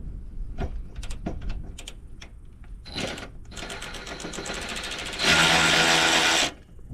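An 18V brushless cordless 3/8 in. ratchet loosens a bolt, with a few sharp clicks and a brief whir, then a loud, steady motor buzz running for about a second near the end.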